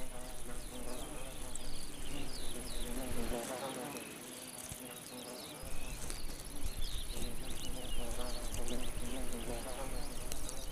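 Hoverflies feeding in an alpine meadow fill the air with a dense, continuous buzzing from many insects, steady and close, with a short lull partway through.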